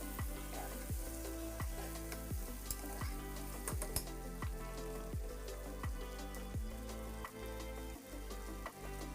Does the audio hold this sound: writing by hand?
no